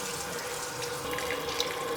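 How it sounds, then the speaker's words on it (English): Warm tap water runs steadily over spinach pieces in a large strainer, a continuous close splashing hiss with no talk over it. "place all these spinach pieces in the largest strainer that you have, and then run warm water over the spinach"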